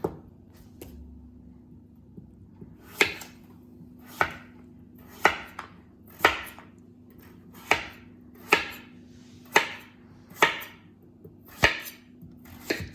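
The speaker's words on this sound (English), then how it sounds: "Chop them into nice big chunks." A knife chops through pumpkin into big chunks on a board, about a dozen sharp, close thuds spaced roughly a second apart over a low steady background hum.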